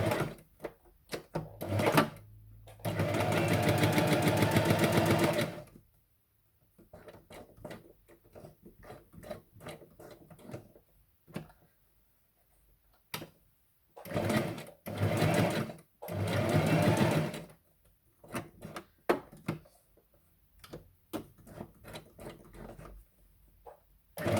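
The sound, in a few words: sewing machine straight-stitching around a journal tag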